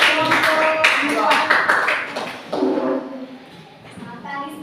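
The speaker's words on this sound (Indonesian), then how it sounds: "sekali lagi tepuk tangan untuk kelompok 1" Classroom clapping for a student group, a scattered, uneven patter of hands that thins out after a couple of seconds, mixed with taps, shuffling and voices talking.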